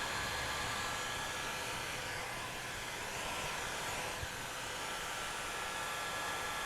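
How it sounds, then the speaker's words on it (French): Heat gun blowing a steady, even airflow hiss while warming vinyl wrap film, continuous and close with no pauses for the whole stretch. "Je chauffe le vinyle sur la partie haute."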